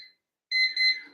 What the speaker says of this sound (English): Oh, and that's our timer.